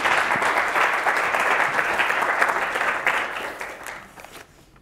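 Audience applause welcoming architect Jenny Wu to the stage at a university architecture lecture, a steady dense clapping from a large hall that holds strong for about four seconds, then tapers off to quiet.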